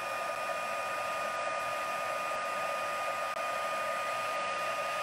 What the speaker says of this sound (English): It does take a little while for the heat gun to warm up.